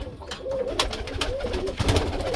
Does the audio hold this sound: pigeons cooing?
yes